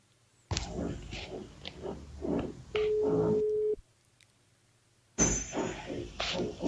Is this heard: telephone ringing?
yes